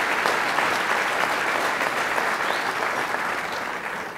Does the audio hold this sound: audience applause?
yes